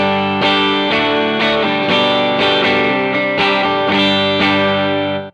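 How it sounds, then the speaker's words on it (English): Electric guitar through a Vincent channel-switching amp set to a mildly dirty rhythm tone strums loud, sustained chords in a steady pattern, close up with no voices. "So it does, you know, everything from just mildly dirty."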